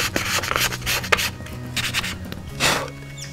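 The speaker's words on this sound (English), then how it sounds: "You can touch it up if you like using the sandpaper provided." Sandpaper rubs over a wooden pollinator house in short back-and-forth strokes, a close dry rasping that comes in uneven bursts.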